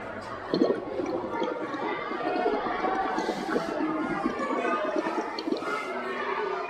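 Breath blown through a pipe into a vessel of limewater, producing a soft continuous bubbling and gurgling with small liquid splashes, close and moderately quiet, with faint voices in the background.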